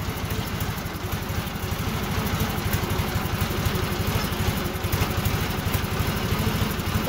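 A racing lawn mower's engine runs in gear with a steady, rapid, close putter that holds an even pulse throughout, with no talk.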